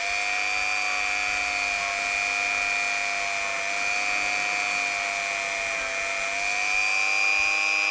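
A Dremel rotary tool runs steadily at high speed, cleaning a model train part during a restoration, a continuous close whine with no talk.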